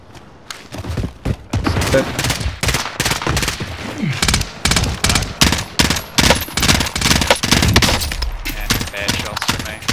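Rapid gunfire in a first-person shooter video game, dense bursts of loud shots and thuds repeating almost continuously, with players' voices mixed in among the shooting.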